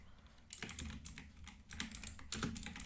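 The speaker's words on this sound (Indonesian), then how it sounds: "Pertama kita ketikkan tanda seru doc type" Someone types HTML code on a computer keyboard, giving quiet, close keystrokes in short irregular bursts with brief pauses between them.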